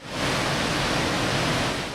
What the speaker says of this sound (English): Second Waterfall gushes into a rocky shoreline